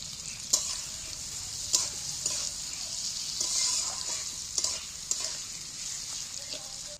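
Sliced onions sizzle in a pan on medium heat for a chicken curry, steady frying punctuated by regular scrapes and knocks of a stirring spoon, close and clear.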